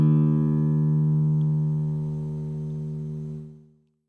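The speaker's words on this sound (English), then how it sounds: "if a string produces a basic note" A single sustained note from a vibrating string, its fundamental ringing loud and steady with a stack of harmonics, holding for about three seconds before fading and cutting off.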